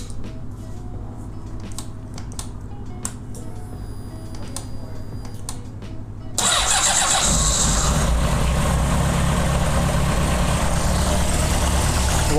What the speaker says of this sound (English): we're gonna start the motorcycle.